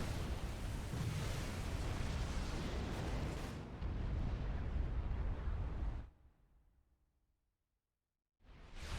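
In the strategy game Supreme Commander 2, torpedo bombs explode as a deep, continuous roar of blasts that drops to near silence for about two seconds, then bursts back in.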